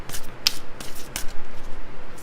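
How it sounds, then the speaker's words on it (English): A deck of oracle cards is shuffled by hand, giving a few quick papery riffles and soft flicks in short bursts over a couple of seconds, close and fairly quiet. "So I'll go ahead and shuffle"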